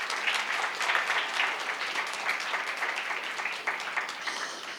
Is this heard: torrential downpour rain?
no